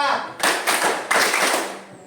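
A group claps in a counted, rhythmic pattern in a classroom-style activity, a few distinct bursts of clapping separated by short gaps, with voices present alongside.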